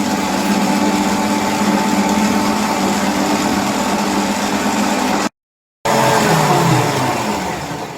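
An electric mixer beats eight eggs into sugar and oil for a tres leches cake batter. Its motor whines loudly and steadily up close, cuts out for a moment, then resumes and gradually fades.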